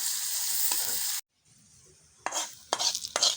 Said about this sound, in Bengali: ডালটা বাগার দিয়ে দিলাম